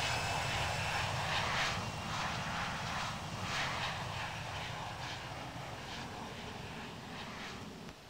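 Airbus A320 airliner jet engines in the Infinite Flight simulator produce a steady, loud, broadband roar that slowly fades over several seconds, with no talking.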